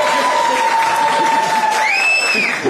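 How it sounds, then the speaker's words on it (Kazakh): An audience applauds at a festive gathering led by a toastmaster, with steady, dense clapping that fills the whole stretch while a thin whistle-like tone rises and bends over the top. "Енді шапалақ сұрап алайықшы көпшіліктен."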